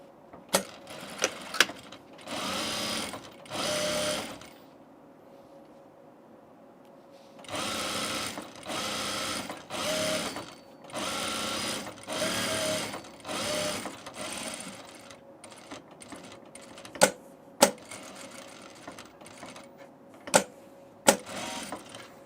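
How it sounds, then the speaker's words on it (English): A sewing machine stitches thick open-weave fabric in repeated runs of a few seconds each, a fast buzzing whir that starts and stops. Sharp clicks and handling noises fill the gaps, close and clear, with no talking. "This fabric is a little thick, but because it's an open weave, it's easy to sew."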